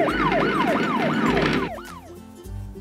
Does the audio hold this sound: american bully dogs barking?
no